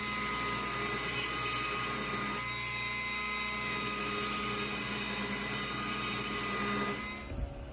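A bench grinder grinds the faces of a forged steel flatter tool, giving a steady, loud, high-pitched whine with a gritty edge that holds for several seconds, then cuts off abruptly at the end.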